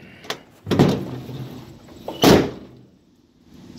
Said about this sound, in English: Let's see if this door opens up.